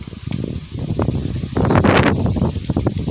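Strong wind buffets the microphone while cycling on a sunny, cool day, roaring in uneven gusts that swell loudest midway through, with no talking.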